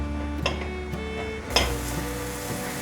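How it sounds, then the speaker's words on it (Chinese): King oyster mushrooms sizzle gently in olive oil with a couple of sharp clinks of a utensil against the pan, over a steady low background hum. "锅内放入少许橄榄油，把杏鲍菇放进来煎香"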